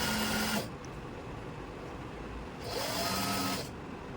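A sewing machine runs a side seam on a pair of pants, a faint, close, steady whirring in two stretches separated by a quieter pause.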